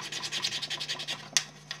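Sandpaper rubbed along a seam on a model horse makes quick, steady back-and-forth scratching strokes, close and fairly quiet, with one sharper scrape near the end.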